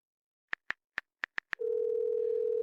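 Telephone keypad tones sound as a call is placed, six short separate beeps at uneven intervals, followed by a steady, continuous ringback tone, clean and close with no talk.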